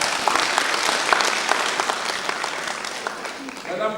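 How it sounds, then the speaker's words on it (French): An audience applauds at a women's leadership forum in the European Parliament in Strasbourg, many hands clapping in a dense, sustained patter that fades slightly before a voice resumes at the end. "J'ai oublié de l'applaudir encore."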